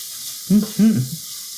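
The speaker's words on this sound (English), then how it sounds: "get some of these delicious chicken bits off the bottom of this pan" Browned chicken bits are scraped off the bottom of a hot pan while making mulligatawny soup: a constant soft sizzle and hiss runs underneath as someone talks briefly over it.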